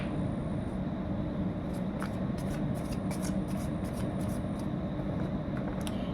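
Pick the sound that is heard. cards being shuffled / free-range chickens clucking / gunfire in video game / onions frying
cards being shuffled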